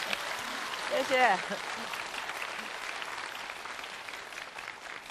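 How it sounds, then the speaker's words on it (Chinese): Studio audience applause at a Chinese celebrity talk show, a steady wash of clapping throughout that swells briefly near the start, with a short spoken word over it. "我们用掌声来说"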